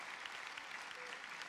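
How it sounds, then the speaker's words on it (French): Attendees at a social housing staff convention in Nouvelle-Aquitaine give steady, even applause, heard softly and from a distance as a brief continuous patter of many hands with no voices over it. "je crois que ça peut s'applaudir"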